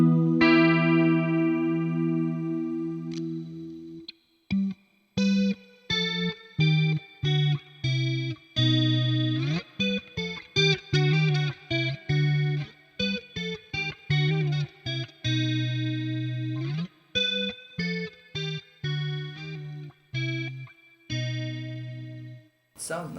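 Electric guitar on a clean tone with chorus from a GP5 multi-effects processor, plucked notes and ringing chords playing a passage in a steady eighties-metal style, shimmering and alone without talk.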